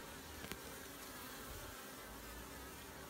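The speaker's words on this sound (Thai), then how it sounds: "ก็รังนี้ก็เป็นรังผึ้งพันนะครับ" Honeybees swarming around a feral-style colony nest, a steady faint broadband buzz of many insects droning continuously with one or two brief closer passes.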